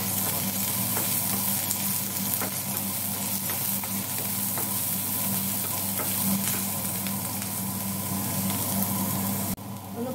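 Onion, green chili and curry leaves sauté in a pan for a rice flakes dish with a constant close sizzle over a low hum, dotted by light stirring clicks, and no speech throughout.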